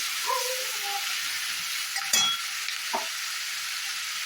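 Fried food stirred in a pan after a little water goes in for chili fish with fried rice, giving a soft steady sizzle with a few short scrapes and one louder clatter, close by and without talk.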